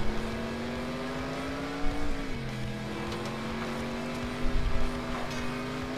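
Race car in the video game FlatOut 2 revving hard with a steady high engine whine that dips and climbs, accompanied by rumbling road noise and brief bursts of louder roar.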